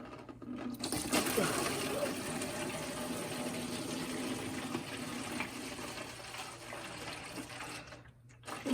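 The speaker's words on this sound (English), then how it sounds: "You see a little bit of coolant flowing out." Coolant pours steadily from the radiator of a 1996 Miata into a container, a continuous close splashing trickle that runs almost the whole time and then stops.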